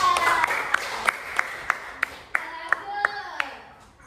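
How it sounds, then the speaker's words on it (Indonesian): Scattered hand claps ring out at a slow, uneven pace in a classroom, fairly faint, with a voice underneath. "Tepuk tangan untuk Mijan."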